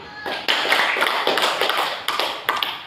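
A class of primary-school children claps together in a short, loud burst of brisk, uneven clapping that comes in a few waves, close by and with no talk over it.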